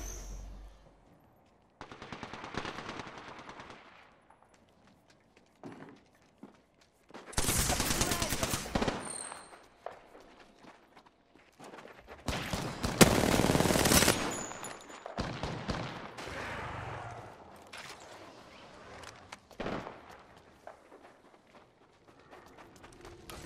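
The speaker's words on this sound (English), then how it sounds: "Shots fired at me." Apex Legends gunfire, several loud rapid bursts of automatic shots separated by quieter gaps with footsteps and game sounds, while a voice speaks briefly at times.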